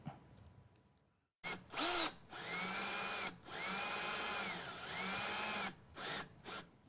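A power drill drives a screw into a wooden rug tufting frame in several whirring bursts, the motor rising and falling in pitch with short pauses between pulls, close and clear with no talk.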